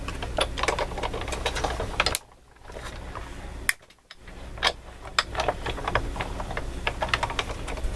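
Die cutting machine cranking a recycled card through for Christmas card making, a steady run of dense clicking, ticking mechanical noise, close and fairly loud, with two brief pauses where the rolling stops.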